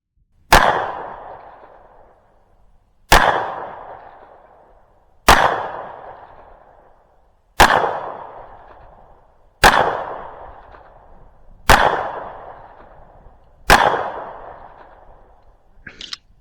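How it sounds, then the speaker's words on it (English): Seven sharp gunshots are fired at a shooting range, spaced about two seconds apart, each one loud and close, with a decaying echo trailing after it. "I was shooting at the top right."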